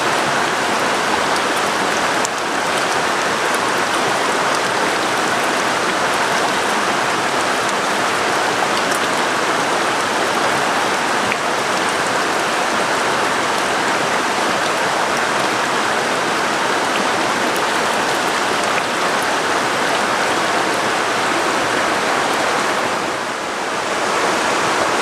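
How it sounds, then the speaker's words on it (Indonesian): Heavy rain pouring down around a rice field hut beside a river, a dense, unbroken hiss of drops on surfaces, loud and steady throughout. "Hujannya makin gede."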